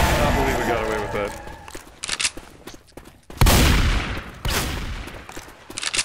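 In Left 4 Dead 2, bursts of gunfire erupt in loud, ragged volleys, with sharp shots and rapid fire coming in uneven waves while players talk over the action.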